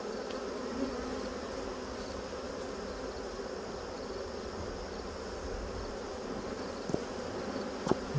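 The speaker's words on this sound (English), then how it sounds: "look at the amount of bees on this" Dense, steady buzzing of a crowd of honey bees swarming around an opened hive during inspection, close and continuous with a couple of faint clicks near the end.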